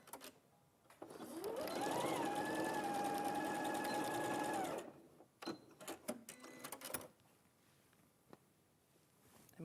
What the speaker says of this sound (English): just sew across that top bit.